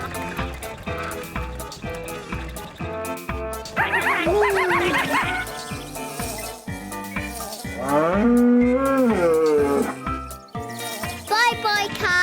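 A cartoon cow moos in long, drawn-out calls over cheerful music from a children's animated episode, several loud moos rising and falling across the clip.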